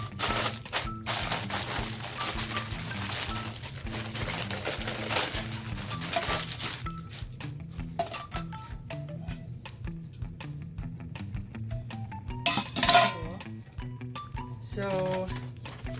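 A Pampered Chef Quick Cooker springform pan pulled out of its packaging, with steady crinkling and rustling of plastic and paper, dense and close throughout, plus a few sharper crackles and clunks near the end.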